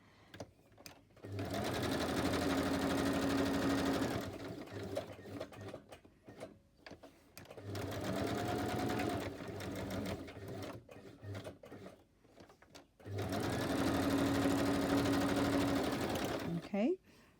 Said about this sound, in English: One day my sewing machine's going to pack it in.